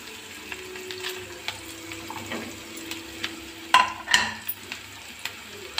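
Capsicum frying in a pan for chilli paneer, soft sizzling under repeated scraping and stirring clatters, with a few sharper metallic knocks, close and alone.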